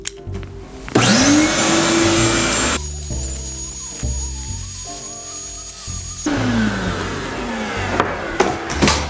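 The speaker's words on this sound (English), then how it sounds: "So we're going to vacuum." A vacuum cleaning out a beehive roars to life with a rising whine, runs loud and close, and its pitch shifts as the suction changes, then cuts off and restarts.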